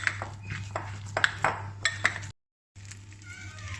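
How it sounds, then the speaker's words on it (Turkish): Spoon scraping and clinking against a bowl while ingredients with olive oil are stirred together, several sharp metallic clinks in an uneven rhythm, close and moderately loud, with a brief silent break. "Bütün malzememizi güzelce karıştırıyoruz şimdi."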